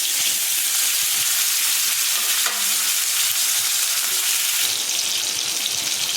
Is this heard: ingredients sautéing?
yes